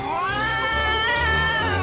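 A cat meows in a video game in a long, wavering, whiny call, loud and close, with no talking.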